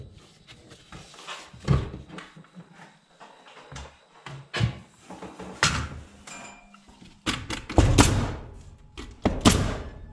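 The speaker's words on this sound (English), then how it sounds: "Want to hand me that nail gun, please?" A nail gun fires into lumber while building a post and beam barn, making irregular sharp, close thuds and bangs, sometimes several in quick succession, with quiet gaps between them.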